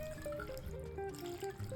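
Water poured into a cooking pot holding chicken, pasta, tomato puree and basil, a short gurgling, bubbly trickle with shifting pitched glugs, close and alone.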